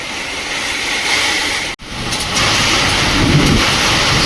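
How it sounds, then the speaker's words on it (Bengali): A hailstorm over an open field brings loud, rumbling thunder over a dense, steady roar of heavy rain, with a sudden brief dropout before the downpour surges back even stronger. "শিলাবৃষ্টি শুরু হয়েছে"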